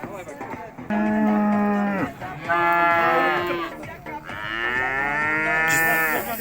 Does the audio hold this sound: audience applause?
no